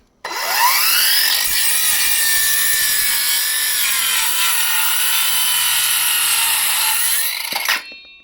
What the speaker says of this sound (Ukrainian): І ріжемо той же самий дубовий блінчик.